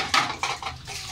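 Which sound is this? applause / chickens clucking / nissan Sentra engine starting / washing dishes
washing dishes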